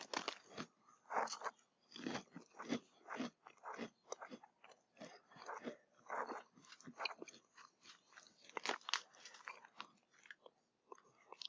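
Wavy potato chips being munched close up, a steady run of crisp, crackling bites and chewing crunches that repeat irregularly for several seconds with no talking.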